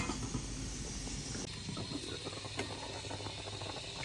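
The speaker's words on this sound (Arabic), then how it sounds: "على المريقه كتبقبق." Moroccan marqa sauce bubbling in a pot, a steady, quiet, dense simmering hiss with faint pops throughout.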